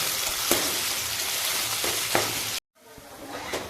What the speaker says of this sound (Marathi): आता त्यामध्ये मी बारीक चिरलेला टोमॅटो टाकते। टोमॅटो पण चांगला परतवून घेते।